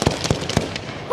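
Firework mortars burst outdoors in a quick series of three or four sharp booming cracks with a crackling tail, loud and somewhat distant.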